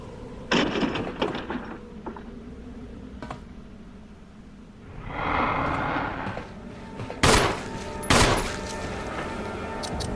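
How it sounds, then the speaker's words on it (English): Handgun shots fire in the video game Resident Evil Remaster during a boss fight: a few sharp cracks, then a swelling rush of noise and two louder bursts, moderately loud with no talking. "I like to shoot him a bit with the handgun"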